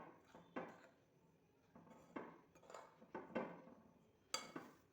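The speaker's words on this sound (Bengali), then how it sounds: "দেখুন এখন আমি এই সুজি, ময়দা এবং চালের গুঁড়ো এই সবগুলোকে আমি সুন্দর করে মিক্স করে নিচ্ছি।" Semolina, flour and rice flour are stirred together in a bowl for patishapta pitha; a spoon gives soft, irregular scrapes and light clinks against the bowl, quiet and close, with no talking.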